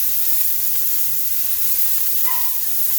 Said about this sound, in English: Saute the onion and the peppers.